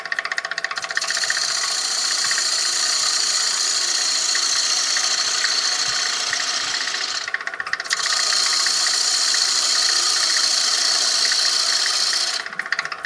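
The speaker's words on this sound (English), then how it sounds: "I'm going to take down this outer cylinder, this tenon here, little by little." A wood lathe runs steadily while a tenon is turned down little by little on a jam chuck, a loud continuous whir with a sharp cutting hiss that drops out briefly twice, close with no talk.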